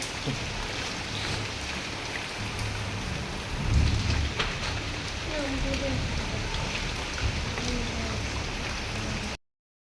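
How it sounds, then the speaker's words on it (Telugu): Heavy late-night rain pours steadily with a dense hiss, a low rumble swelling briefly midway, before the sound cuts off abruptly. "వర్షం చూసారు కదా గాయ్స్ ఎలా పడుతుందో"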